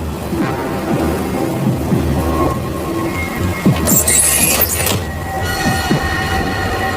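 Steady rain pours down while deep rolls of thunder rumble through, with a sharper crack near the middle; no one speaks.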